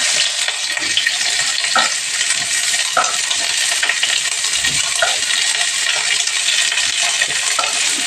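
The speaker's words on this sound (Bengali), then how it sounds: "এই দেখো, তেল গরম হয়ে গেছে। এখন আমি পেঁয়াজগুলো" Onions frying in hot oil make a loud, dense, continuous sizzle close by. Occasional stirring clicks and a dull thump cut through the hiss.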